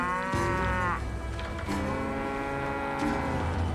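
A cow in the Call of Juarez Gunslinger video game lets out a loud, close moo that rises and then falls, followed by a second, longer lowing call.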